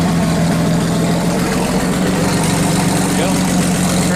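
Turbocharged V6 Dodge Dakota engine idling right after its first start with a new turbo, a steady close low rumble with a constant hum, running smoothly throughout.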